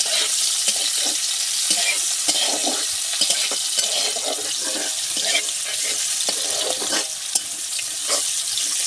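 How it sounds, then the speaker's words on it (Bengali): Chopped onions stirred and fried in a pan for a spiced potato and chickpea fry, a steady close sizzle broken by repeated scraping strokes of the spatula, with no talking. "পেঁয়াজটা দিয়ে দেবো পেঁয়াজ এইভাবে আমি নেড়ে চেড়ে খুব সুন্দর মতো করে ভেজে নেব"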